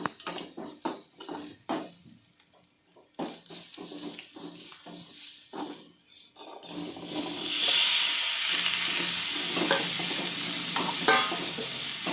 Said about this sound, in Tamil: தேங்காய் இந்த தாளிச்சத்திலே போட்டு நல்லா வதக்கி விட்ருங்க